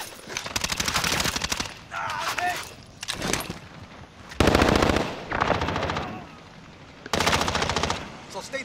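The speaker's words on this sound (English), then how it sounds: "Broke the guy that was shooting at you, Matt." Bursts of rapid automatic gunfire in a multiplayer shooter video game, loud rattling volleys in several separate runs with shorter gaps between them, while players talk over the shooting.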